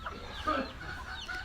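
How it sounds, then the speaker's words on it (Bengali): Young chicks in a rural Bangladeshi yard give a few soft, faint clucks and peeps, brief and slightly distant over low background noise. "দেখেন কত সুন্দর মুরগির বাচ্চা।"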